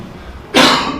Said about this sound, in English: I caught a little bit of cough a couple days ago.